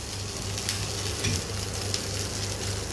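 Rice tipped into a hot oil-filled pan for a simple homemade dish sizzles in a steady, close frying hiss, with a brief louder surge as the grains hit, then settles back to an even crackle.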